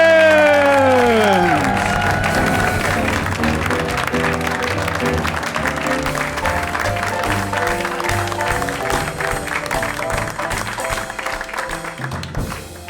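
An audience bursts into loud, sustained applause and whoops of cheering to welcome comedian Dwayne Perkins as the opening act of a holiday comedy show, with excited voices rising at the start and the noise carrying on steadily throughout.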